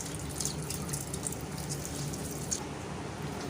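Water squeezed from soaked phulkis (gram-flour fritters) dripping into a bowl of yogurt while making dahi phulki, a soft, continuous trickle and splatter heard close up without talk.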